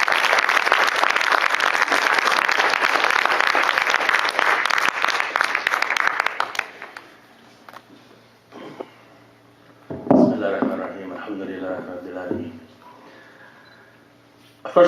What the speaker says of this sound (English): if we would be so kind as to welcome him with a round of applause